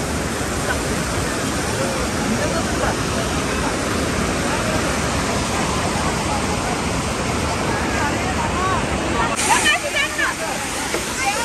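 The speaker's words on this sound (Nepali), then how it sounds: "त्यो झरनाको पानी सबै उडेर पानी पर्ने भएर यहाँ आएको छ।" Dense, steady roar of rushing waterfall water and blown spray close by, continuous broadband noise with voices faintly mixed in.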